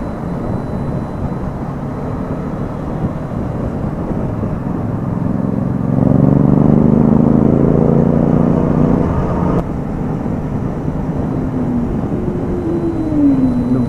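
A powerful motorcycle engine roars steadily, swelling louder as it passes close by, then settling into a lower drone before rising again.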